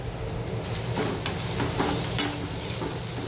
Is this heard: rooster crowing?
no